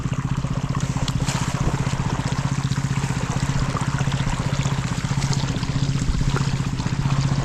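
Water trickles and splashes steadily as newly planted plants are watered, set against a constant low mechanical drone that runs through the whole stretch, with no one speaking.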